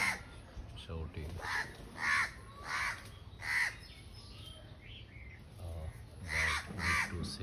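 Crows cawing around a nest in a tree, a series of harsh, repeated caws in uneven bursts at moderate distance, with a person talking through parts of it.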